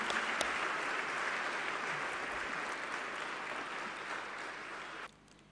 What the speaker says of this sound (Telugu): అందరూ చప్పట్లు కొట్టి దేవుని స్తుతిద్దాం